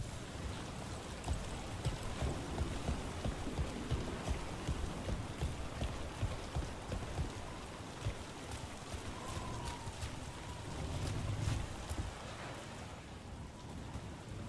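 Steady rain falls throughout a rainy scene in the video game Dragon Age: The Veilguard, a dense patter with low rumbling thunder swelling briefly near the end, no voices heard.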